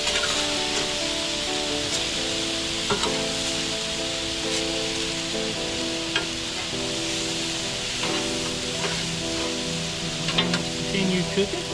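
Steak sizzling on a flat-top griddle, a steady crackling fry running throughout with scattered spatula taps and a voice speaking over it.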